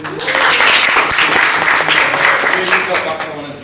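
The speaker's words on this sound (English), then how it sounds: "Round of applause." At a women's networking event, loud, dense applause from the crowd fills the whole moment, with voices talking and cheering faintly beneath the clapping.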